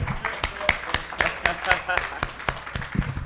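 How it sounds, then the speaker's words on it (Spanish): An audience at a theatre reading applauds two actors with brisk, evenly spaced claps. Each clap rings out distinctly, and faint voices run underneath. "les demos un fuerte aplauso por sus participaciones en esa obra de teatro"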